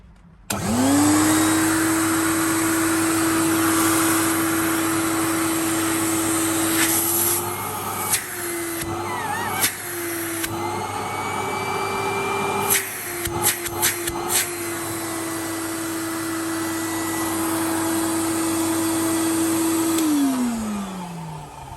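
An early 1990s Numatic Henry vacuum cleaner whirs to life and runs loudly and steadily, a faint squeal riding over the motor before it spins down at the end.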